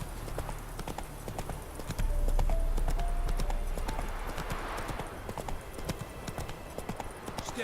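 Roach, a horse in The Witcher 3: Wild Hunt, galloping with a steady rapid clip-clop of hooves throughout, close and prominent over a low ambient game background, with a brief rumble partway through.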